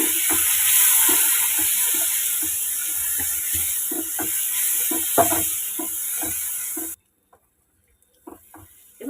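Water poured into a hot pan of mustard hilsa curry with eggplant sets off a loud, continuous hissing sizzle with light stirring clicks, then cuts to near silence at the end.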